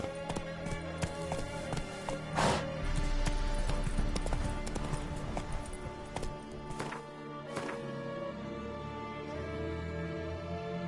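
Roach, a horse in The Witcher 3, gallops with rapid repeated hoof clip-clops, close and rhythmic, over a busy layered game soundscape of music and effects, without voices.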